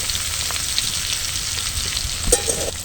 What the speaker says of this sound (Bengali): আলুগুলো ভাজা হয়ে গেল, তুলে রাখবো।